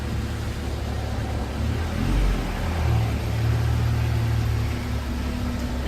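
A wrecked 1992 Honda Civic pulls away, its engine a low rumbling drone that rises and dips slightly as it drives off, heard at moderate distance with no talking.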